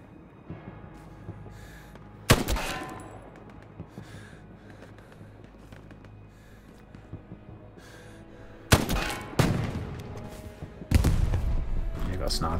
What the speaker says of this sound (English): Sniper shooting at me.